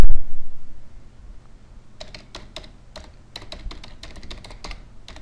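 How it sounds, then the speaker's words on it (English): Keystrokes on a computer keyboard come in irregular clusters of crisp, close clicks after a short opening thump, with no talking. "Type your SMTP server name here."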